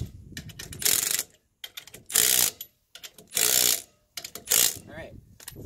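A Milwaukee power tool drives a fastener on a trailer hub and drum with electric brakes, four loud close bursts of whirring and ratcheting separated by short pauses, with faint speech in between.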